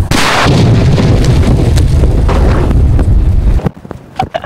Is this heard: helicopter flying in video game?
no